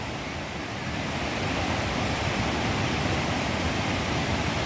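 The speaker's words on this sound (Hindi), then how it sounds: "ये जल प्रवाह देखिए आप, ये प्रकृति का चमत्कार ही है" Dense, continuous roar of a rushing stream swollen after overnight rain, a loud broadband wash of flowing water holding steady throughout with no voices.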